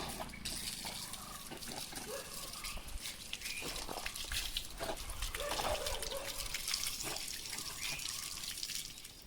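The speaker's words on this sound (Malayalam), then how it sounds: "അപ്പോൾ നല്ല രീതിയിൽ വെള്ളം വരുന്നുണ്ട്." Water runs steadily from an opened tap, a continuous rushing trickle at moderate level that holds for the whole stretch.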